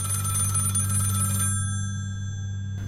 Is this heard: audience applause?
no